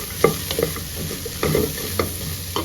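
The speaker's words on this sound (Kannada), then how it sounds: "ಚೆನ್ನಾಗಿ ಮಿಕ್ಸ್ ಮಾಡಿ" A simple masala of chilli powder, turmeric and a pinch of asafoetida frying in a pan, stirred with a utensil that scrapes and taps in irregular strokes over a soft, steady sizzle, close and clear with no talking.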